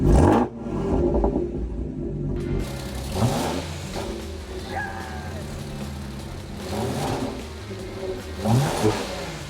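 An Audi S5 engine revs up and down in repeated surges, loud and close, with the pitch climbing and falling several times.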